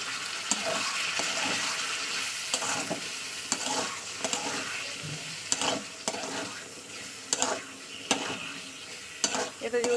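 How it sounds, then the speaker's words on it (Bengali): Onion and green chilli masala for a fish curry sizzles in a pan while being stirred, with steady frying hiss broken by repeated sharp scrapes and clacks of the spoon, close and fairly loud. "এবার ভালো করে কষিয়ে নেবো তো চলুন একটু কষিয়ে নিচ্ছি"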